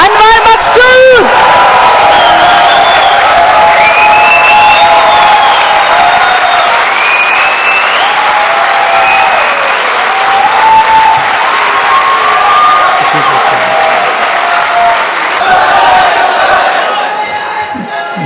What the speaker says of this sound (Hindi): बहुत सारी तालियों में अनवर मकसूद